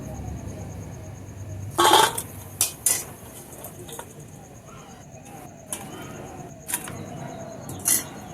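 Metal utensils clink and tap against a plate as fried fulki for doi fulki are lifted and set down, a few sharp clatters scattered over quiet kitchen background, with one louder burst early on.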